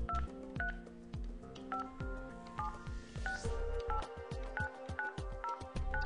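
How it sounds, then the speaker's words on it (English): A phone number is dialed on an office phone extension, producing a fast run of distinct DTMF keypad tones, each a short clear beep, with a brief busier burst partway through. "Press the phone number first."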